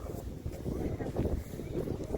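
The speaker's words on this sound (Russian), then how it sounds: "Ну, ветер тут не останавливается." Steady low wind rumble buffeting the microphone in Turkestan, Kazakhstan, continuous and moderately loud with gusty swells, no voices.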